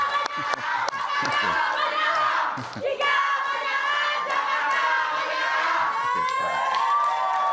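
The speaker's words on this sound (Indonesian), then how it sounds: "Kita berikan tepuk tangan sekali lagi" Crowd cheering and shouting at a Jakarta deputy governor candidates' debate, loud and sustained, with some clapping at the start and voices and whistles rising through the din.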